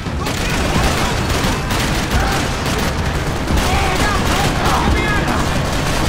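Rapid bursts of gunfire from the shooter video game Max Payne 3 during slow-motion bullet time, loud and continuous volleys of shots and booms with faint voices mixed in.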